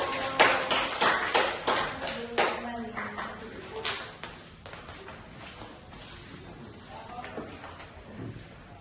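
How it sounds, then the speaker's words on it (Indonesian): A classroom group of students applauds for the first presenting group, a burst of loud hand claps that peaks early and then thins into scattered claps and faint murmuring. "beri aplaus untuk kelompok 1"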